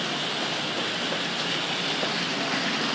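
Vintage Tri-ang and Hornby Dublo model trains running on track, a steady close whirring rumble with fine rail clatter, continuous and alone throughout.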